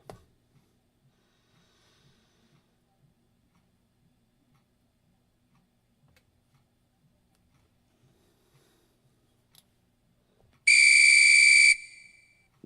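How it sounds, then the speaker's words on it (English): A loud, steady high-pitched whistle blasts for about a second after a long stretch of near silence with faint soft ticking. "Let me see if I have a whistle."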